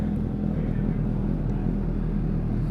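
Suzuki GSX 750 motorcycle fitted with a Scorpion exhaust idles and revs with a steady, loud low rumble, close by and continuous with no talk.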